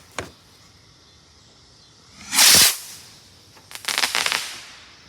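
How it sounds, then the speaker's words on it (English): Backyard fireworks for the 4th of July at a house: a sharp pop, then a loud hissing burst, then a rapid string of crackling bangs, all fairly close with no talk. "that's like a real fireworks. Those are awesome."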